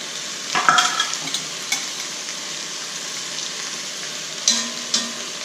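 Peppers and meat fry with garlic in a cast iron pan, a steady close sizzle broken by a few sharp scraping stirs near the start and again toward the end.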